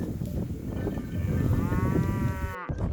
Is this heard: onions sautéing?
no